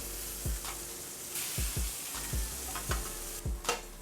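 Chicken livers searing in an oiled pan give a quiet, even sizzle broken by scattered clanks and scrapes as they are moved around.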